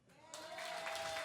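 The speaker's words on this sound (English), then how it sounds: "Please applaud" Applause from an audience at a cabaret night at the Metropolitan Room starts up after a moment and builds into steady clapping, with a sustained tone running underneath.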